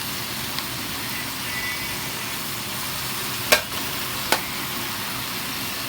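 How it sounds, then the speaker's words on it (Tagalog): Sponge gourd (patola) stirred in a cooking pot, a steady sizzle and bubbling with a couple of sharp utensil clinks against the pot. "Haluin natin ang patola."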